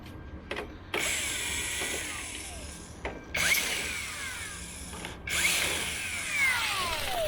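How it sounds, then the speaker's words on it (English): A cordless power drill loosens carburetor bolts on a motorcycle in several bursts. Each run whirs loudly with pitch sweeps as it spins up and slows, and there are short pauses and small metallic clicks between runs. "The drill is not that powerful, so I have to break loose it with the T-bar first."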